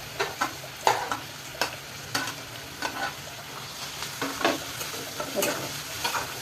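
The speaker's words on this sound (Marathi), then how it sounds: "आणि कांदा चांगला परतून घ्यायचा." Onions sauté in hot oil in a kadai for bheja fry, with a spatula scraping and stirring in repeated, fairly regular strokes over a soft, steady sizzle, close up and with no voices.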